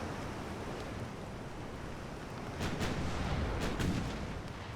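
Naval gunfire from 8-inch guns in Ultimate Admiral: Dreadnoughts at extreme range against light cruisers, heard as a steady roaring wash with a few distant, muffled booms rising out of it near the end.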